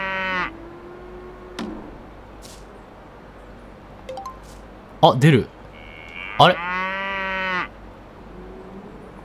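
A cow in the video game Boku no Natsuyasumi 3 lets out several drawn-out moos while being milked, loud and close with short gaps between calls, and a person briefly says a few words in between.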